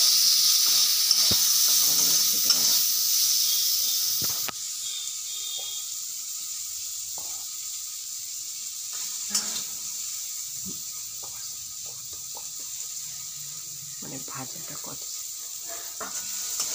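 Cherries and turmeric sizzle in a hot pan for a chutney, giving a steady, fairly loud hiss with a few clinks and stirring scrapes throughout, and no voices.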